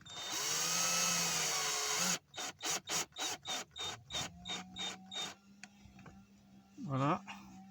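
An aluminium pedal being fastened onto a Citroen C4 1.6 HDi with a power screwdriver: a steady two-second whir, then a rapid run of about a dozen short, evenly spaced ratcheting bursts, followed by quieter handling noises.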